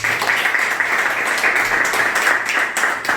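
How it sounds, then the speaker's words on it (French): A small group of listeners in a business training room in Cameroon claps steadily for a few seconds, close and fairly loud with no talk. "Les gars, on applaudit très fort."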